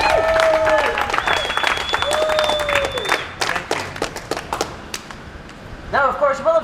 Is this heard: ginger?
no